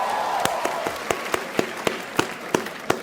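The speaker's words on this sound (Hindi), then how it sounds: "एक बार जोरदार ताली बजा दो सबके लिए भाई," Applause from a stand-up comedy audience, a busy wash of clapping with sharp individual claps standing out at a steady beat, moderately loud and close, with no talk over it.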